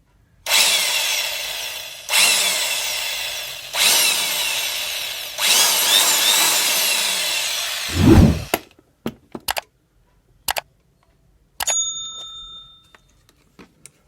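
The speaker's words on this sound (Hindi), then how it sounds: "तो अपन अब ड्रिल मशीन को अपने बोर्ड में लगाएंगे।" Electric drill machine switched on after its power wire was replaced, running in four loud sustained bursts with short pauses, then stopping for several brief clicks and taps and a couple of short whirs near the end.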